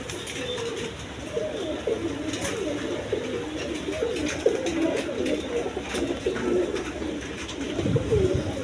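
Indian Bombay pigeons coo in soft, repeated throaty phrases close by, with light background rustling and faint ambient noise.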